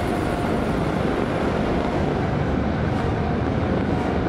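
A formation of ten military helicopters flies over Tiananmen during China's Victory Day parade, giving a loud, continuous, heavy mechanical roar overhead with no pause or talk.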